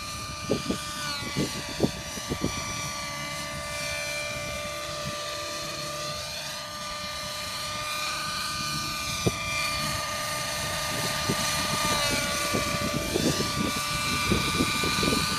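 A Trex 700 nitro RC helicopter on its maiden flight gives a steady high-pitched engine whine with rotor chop that rises and falls as it moves, heard outdoors with wind buffeting and faint knocks.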